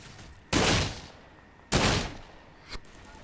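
In the Sunset Overdrive video game, two sharp, heavy gunshot blasts about a second apart each ring out briefly, followed by a smaller crack, all close and loud.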